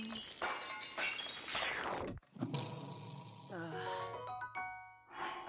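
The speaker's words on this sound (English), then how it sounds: "it sounds like there's like smashed plates in the background when you're cooking stuff." Cooking sounds in The Legend of Zelda: Tears of the Kingdom, a crashing, shattering clatter like smashed plates, followed by a brief gap and then bright rising chime tones and a closing swell.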